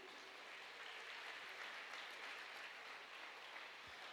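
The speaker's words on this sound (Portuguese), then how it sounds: "Você pode aplaudir Jesus, querido?" A church congregation at a family conference applauds in a soft, distant, steady wash of clapping that holds evenly throughout, with no talking over it.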